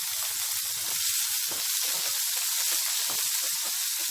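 Garlic, green chilli pieces and curry leaves sizzle steadily in hot oil for a Telugu chukka kura leafy-greens chutney, a continuous close bright crackle with small pops throughout and no talking.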